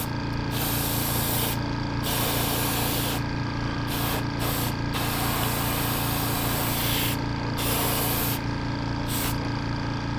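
Spray paint hissing onto a scale model over a basecoat with decals, a loud, steady, close aerosol hiss that runs almost continuously with only brief breaks.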